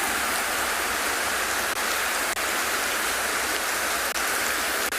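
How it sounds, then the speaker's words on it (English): Steady rain patters on leaves in the open bush at dawn on a South African game reserve safari, a continuous broadband hiss with a few sharper drops and no voices. "Blessings to the rain"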